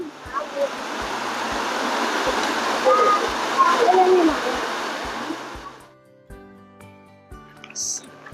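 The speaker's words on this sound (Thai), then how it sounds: "เดี๋ยวเราจะพามาชม น้ำตกสวยๆ" A steady, rushing roar of a jungle waterfall in Thailand fills most of the clip, then fades away, leaving quieter background sounds.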